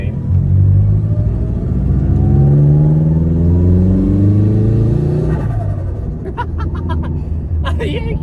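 Nissan S15 engine revving and pulling hard, a loud rising rumble heard from inside the car over several seconds, then dropping off as people talk over it.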